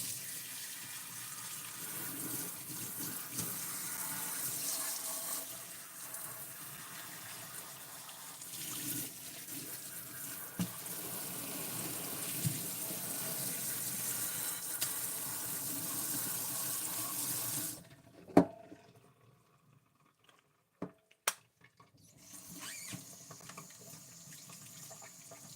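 Tap water runs into a sink while a used Barbie doll's hair is washed, a steady close splashing hiss lasting most of the time before the flow stops, leaving a few small knocks and drips.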